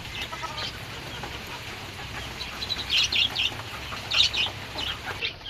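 Backyard chickens cluck softly at close range while being fed and watered, scattered short calls growing a little louder partway through over a low background hum.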